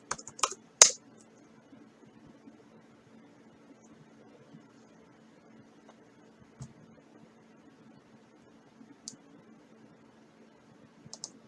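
Sparse, sharp clicks of a computer keyboard as a short command is typed: a quick burst at the start, then a few isolated taps over a faint steady hum.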